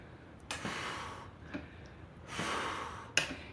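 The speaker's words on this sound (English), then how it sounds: "Hear me breathing?" Heavy, close breathing during a kettlebell workout: a few sharp, forceful inhales and exhales spaced irregularly apart, like someone panting during exertion.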